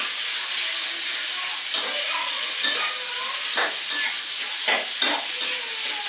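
Pork frying in a hot pan for Thai fried rice with red sauce: a loud, continuous sizzle with uneven scraping and clatter from a stirring spatula.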